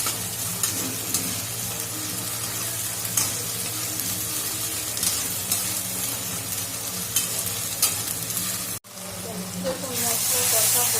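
Spice paste (masala) fries loudly in a pan for a meat curry, a dense continuous sizzle with stirring scrapes, briefly cut off near the end before resuming with a brighter hiss.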